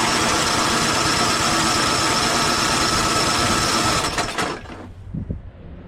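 A Craftsman 5.5HP 24-inch dual-stage snowblower engine with low compression is cranked, running roughly with a loud, steady churning drone for about four seconds, then sputtering and dying into a few uneven coughs.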